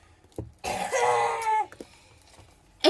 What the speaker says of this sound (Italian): c'ho la tosse